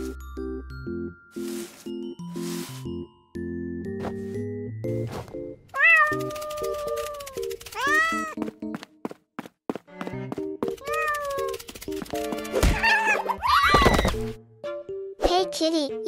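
A cat meows repeatedly in short rising calls amid bell-like dings and a childlike voice speaking, with intermittent game-style sound effects in between.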